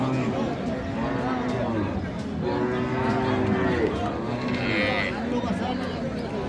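At Ambari cattle market in Dinajpur, cows, including Shahiwal cows with calves, give drawn-out moos amid a busy crowd. Steady chatter fills the background while someone talks close by.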